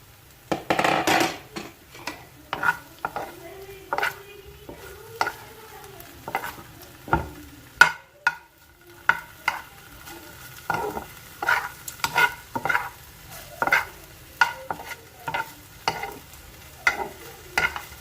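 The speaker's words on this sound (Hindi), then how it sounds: "पाँच मिनट के बाद हमने इसको हिलाया है। बिल्कुल धीमी आंच पे हम लोग पका रहे हैं इसे।" Chicken pieces frying slowly in a pan over a very low flame, with a soft continuous sizzle and repeated sharp scrapes and clinks as a utensil stirs them against the pan. No one speaks.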